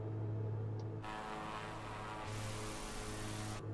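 Steady propeller engine drone of a Velocity XL RG aircraft in Microsoft Flight Simulator, a continuous tonal hum with broadband airflow noise that swells twice as power changes, with no talking.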